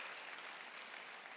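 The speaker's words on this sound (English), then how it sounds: "Let's give it a round of applause for all of our contestants tonight." Live show audience applauding contestants, a brief, even spatter of many hands clapping, fairly quiet and without voices.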